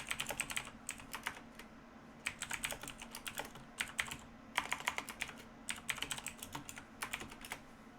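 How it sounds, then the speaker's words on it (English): Typing on a computer keyboard in quick uneven bursts of clicky keystrokes with short pauses between, close and fairly quiet over a low steady hum. "I have to type about this."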